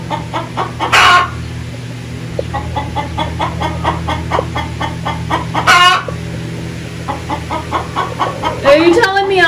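Farm chickens keep up a steady run of close clucking, broken by two sharp louder squawks and a final flurry of calls, over a constant low hum, with a person talking at times.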